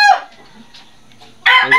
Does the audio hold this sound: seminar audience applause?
no